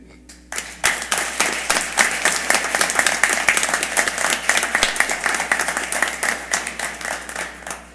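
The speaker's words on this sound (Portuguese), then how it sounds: "pedir uma salva de palmas aqui para o 11º Batalhão" A full round of applause at a city council session in Nova Friburgo, Brazil, honoring the 11th Battalion; dense, sustained clapping from a sizable room begins abruptly and continues steadily at close range, with no voices over it.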